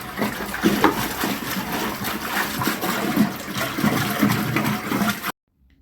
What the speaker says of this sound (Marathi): आता हात टाकून स्वच्छ खळखळून आपल्याला हा माठ धुवून घ्यायचा आहे